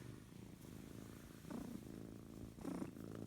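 A sleepy cat purrs softly up close, a low steady rumble that swells twice in short bursts against quiet indoor background noise.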